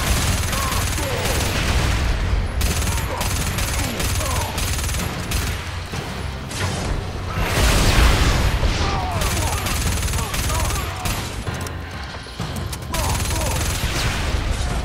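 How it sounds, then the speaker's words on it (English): Gunfire in the Starhawk video game: sustained rapid bursts of automatic shots and booms, loud and near, continuing almost without pause with brief gaps. "Gunfire"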